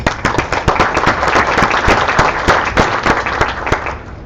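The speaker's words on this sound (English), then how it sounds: "Let's give one more round of applause." An audience at a DNSSEC workshop session applauds steadily, with dense, sustained clapping from many hands throughout.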